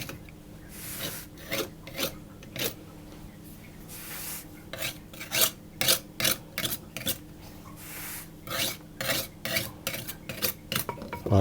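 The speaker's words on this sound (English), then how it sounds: "And I'm going to trim off" Rhythmic scraping and rasping strokes as a knife trims excess pastry off the rim of a lemon tart case, close and fairly quiet, in quick repeated bursts with brief pauses.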